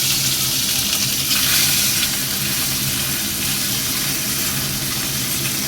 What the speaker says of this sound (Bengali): প্রথমে ট্যাংরা মাছটা ভেজে নেব। মাছগুলো দিয়ে দিলাম।